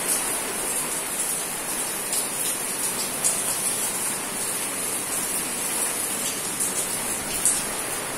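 Heavy rain falls in a steady, dense hiss that never lets up, with occasional louder drips and splashes standing out against the wash.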